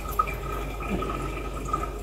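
Homemade whisky distillate drips into a glass jar, two faint separate drips about a second and a half apart over a low steady hum of the still.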